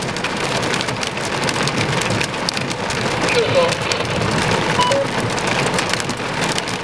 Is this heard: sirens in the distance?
no